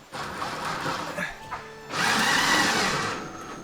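A power driver whirs in two bursts, a shorter one then a louder sustained grinding run as a self-drilling screw bites into a wooden furring strip in a van, close by.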